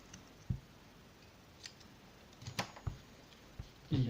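Small scissors snip the leads of vape coil wire, giving a few sharp, quiet clicks scattered over several seconds, with a couple of louder snips near the end and no talk.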